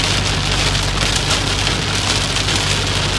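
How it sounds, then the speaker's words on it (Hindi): Heavy rain pours steadily on a vehicle during a road trip in a 2022 Toyota Fortuner, a dense, loud, constant hiss with a low rumble underneath. "फुल फोर्स में बारिश हो रही है।"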